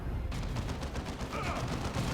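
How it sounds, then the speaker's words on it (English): Sustained weapons fire in a Warhammer 40K Dawn of War II Chaos Rising battle, a dense barrage of rapid overlapping shots and blasts at constant loudness. "Weapons fire has us pinned."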